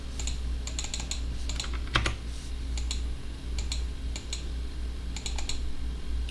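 Keys clatter on a computer keyboard during quiet typing, with the Enter key pressed. The clicks come in short, irregular clusters that sound close but soft, over a low steady hum.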